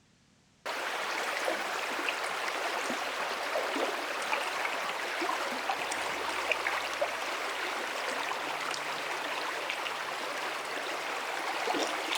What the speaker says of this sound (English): there's a stream there, so that helps